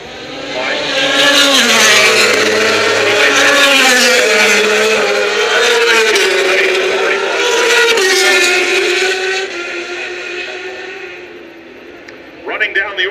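MotoGP racing motorcycles scream past the turn 11 grandstands at Laguna Seca, a loud sustained engine roar rising and falling in pitch through gear changes, with announcer commentary over it, before fading out and a brief clatter at the end.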